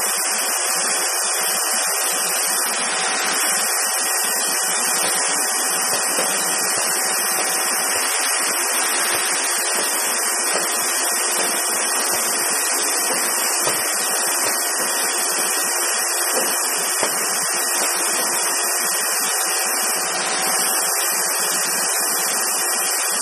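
Minster TR2-60 ultra high speed press with hydraulic clutch and brake, running in inch mode, a constant loud mechanical hiss and whine that holds steady without pause.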